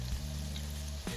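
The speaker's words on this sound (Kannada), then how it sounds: "ಈಗ ಒಂದೊಂದು ಎಗ್ ಡಿಪ್ ಮಾಡಿದ್ವಿ, ಇದ್ರೊಳಗೆ ಫ್ರೈ ಮಾಡಕ್ಕೆ ಬಿಡೋಣ್ರಿ." Batter-dipped eggs for egg chilli fry in hot oil, a brief, steady sizzle heard alone with a slight bump near the end.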